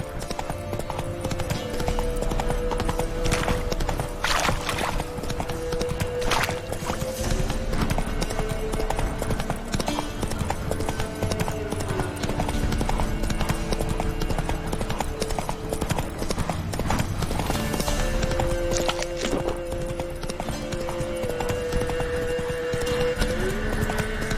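Roach, Geralt's horse in The Witcher 3: Wild Hunt, trots with a steady, continuous clip-clop of hooves throughout, loud and close, over game ambience and music with brief snorts.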